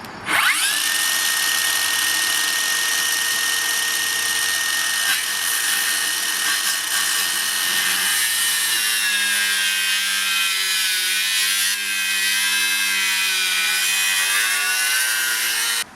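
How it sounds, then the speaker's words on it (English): A Makita 40v 125mm circular saw plunge cuts into timber at an angle, a loud, steady high-pitched whine of blade and motor that runs unbroken for the whole stretch, its pitch dipping slightly as the cut loads up partway through. "I'm going to plunge cut the saw at the start because of course you can't just come into it."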